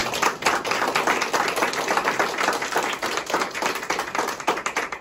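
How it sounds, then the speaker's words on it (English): A modest audience at a cancer survivorship center's grand opening claps for staff members, distinct hand claps at close range forming a lively, slightly uneven patter that continues throughout. "I want to give the staff members that are in the room a round of applause"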